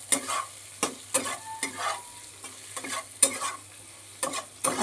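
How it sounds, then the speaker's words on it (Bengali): Okra frying with turmeric is stirred in a pan, a spatula scraping in several sharp, uneven strokes over a steady, close sizzle, with no talking. "এইবার আরেকটুখানি নেড়ে নেব ঢ্যাঁড়সটাকে।"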